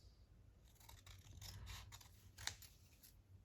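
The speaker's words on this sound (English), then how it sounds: "So I just have to use the big scissors." Big scissors cutting paper, a few quiet snipping and rasping strokes close by, with one sharper clip near the end and no talk.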